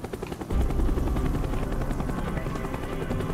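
A helicopter in Black Ops roars with dense, steady rotor thumping and engine noise that swells loudly after a short quieter start and holds throughout.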